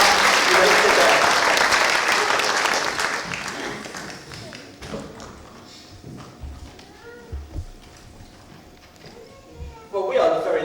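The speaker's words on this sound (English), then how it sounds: "Give them a round of applause." Applause for the winning girls at a school harvest festival, loud and dense over the first few seconds, then thinning to scattered claps and faint voices before a short burst near the end.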